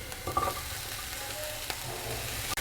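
Onions and garlic sauté in a pan, giving a steady, close, continuous sizzle with light crackling and no voices.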